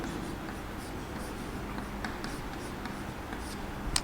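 A marker or chalk writes on a classroom board in a faint, soft scratching over steady room hum, with short strokes and taps scattered through a few seconds and no talking.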